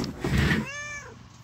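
A house cat gives a single drawn-out meow, loud and close, with a rising then falling tone that trails off, heard alone without talk.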